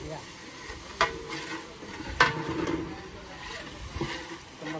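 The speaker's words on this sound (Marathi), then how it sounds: "मसाले फ्राय करूचे आहे." Spices stirred and fried in a pot for mutton curry, a low continuous sizzle broken by a few scraping stir strokes, fairly quiet and close, with no talking.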